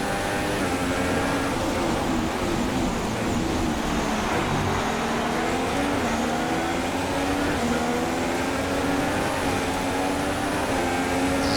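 A Formula 1 car engine in F1 2016 runs under power at the Australian Grand Prix, a loud sustained whine that rises and falls slightly in pitch and continues unbroken throughout.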